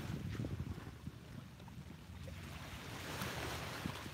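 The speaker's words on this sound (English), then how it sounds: "those sweet little baby waves crashing on the shore" Small waves wash onto a sandy beach shore at sunrise, a soft continuous surf with low rumbling swells and wind noise, no talking.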